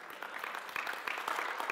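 Congregation clapping in a church during a fasting and prayer service, a brisk run of quiet overlapping hand claps heard from a distance with no voices over it.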